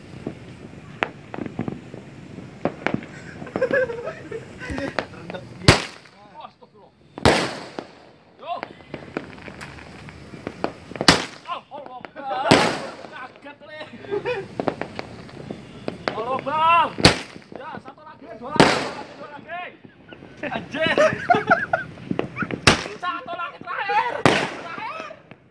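Fireworks boom and crack repeatedly at a New Year's celebration, loud sharp bursts every few seconds, with excited voices chattering and shouting in between.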